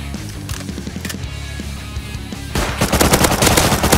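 Rapid automatic gunfire from a long-range weapon in the survival video game Rust, first a steady burst of shots, then a louder, denser volley over the last second and a half.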